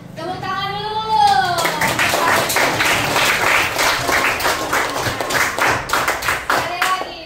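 Classroom audience of children clapping together in a steady rhythmic burst after a teacher's brief spoken line, loud and close, lasting several seconds with the claps gradually loosening toward the end.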